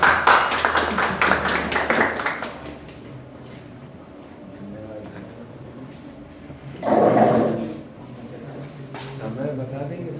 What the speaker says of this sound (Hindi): जोरदार तालियों से ही तालियों के साथ स्वागत कीजिए